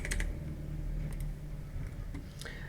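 A computer keyboard gives a short run of quiet, scattered key clicks over a low steady background hum.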